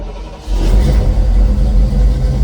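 A truck engine fitted with Sniper EFI cranks and catches about half a second in, then settles into a loud, steady, deep rumble close by with slight rises in revs.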